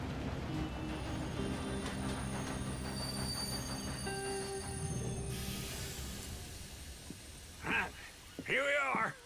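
Train wheels squealing on Pacific Union Railroad track in the Western game Red Dead, long shrill metallic screeches over rumbling rolling stock, then the train settles and someone speaks near the end.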